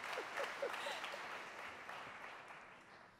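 An audience at a 2011 LabVIEW keynote event breaks into applause, a broad wash of clapping that swells briefly then fades gradually, moderately distant and without speech.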